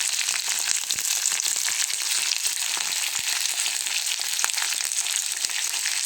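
Gongura chutney ingredients fry in hot oil with a pinch of asafoetida, giving a steady, bright, hissing sizzle that runs unbroken at moderate volume, close by and with no voices.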